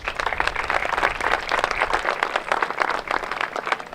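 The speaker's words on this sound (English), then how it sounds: "Please give Alicia a round of applause." A crowd at a Celtic festival opening ceremony gives a warm round of applause, with many hands clapping densely and steadily throughout, fairly close and loud.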